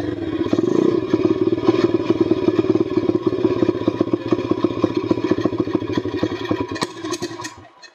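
Repaired dirt bike engine idling after a crash, a steady, close, rapid chugging mid-pitched thrum with mechanical clatter that holds for several seconds, then sputters and dies away at the end.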